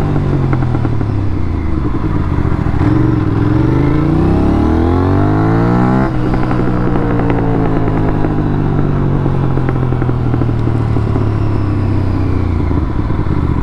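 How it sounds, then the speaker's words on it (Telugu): Aprilia RS457 motorcycle with a loud aftermarket exhaust revving in second gear, a close, continuous rasping engine roar whose pitch climbs, drops with a gear-related dip around the middle, then rises and falls again, alone without talk. "మీకు సెకండ్ గేర్లో చూపిస్తాను సౌండ్."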